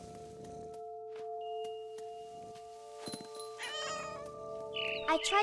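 Cat meowing in the video game What Remains of Edith Finch, a few close, drawn-out meows and a caterwauling cry over a steady tonal game music bed, with no speech.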